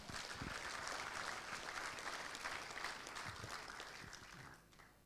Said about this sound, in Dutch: Geef een applaus, Erik de Koeier.